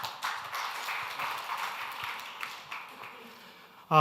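An audience at a Korean missionary conference applauds to welcome a missionary speaker to the stage, a steady spread of many hands clapping at moderate level in a hall before a sudden louder sound cuts in at the very end.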